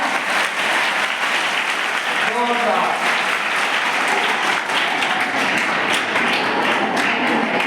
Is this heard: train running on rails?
no